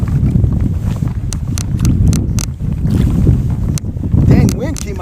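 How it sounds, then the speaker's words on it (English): Sudden strong wind buffeting the microphone while fishing from a kayak on open water, a loud low rumble throughout, with splashing water and occasional knocks from the boat. "Dang, wind came out of nowhere."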